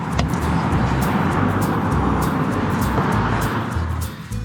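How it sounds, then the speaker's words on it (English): Steady road traffic rumble from passing cars near a Pizza Hut car park in the UK, a continuous loud wash of low engine and tyre noise throughout with no clear individual pass-bys. "So if you can hear a lot of traffic noise in the background,"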